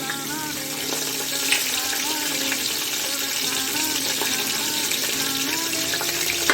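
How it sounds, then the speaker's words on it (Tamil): Whole spices such as cinnamon, kalpasi and marathi mokku lightly frying in a pan for quail biryani, giving a steady close hiss and gentle sizzle with scattered faint crackles, even in level throughout. "இதை லைட்டாக ஃப்ரை பண்ணிக்கலாம்."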